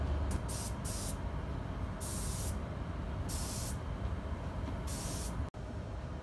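Spray gun laying epoxy primer onto a Cupra TCR race car body, bursts of hissing spray coming and going in several passes over a constant loud booth rumble.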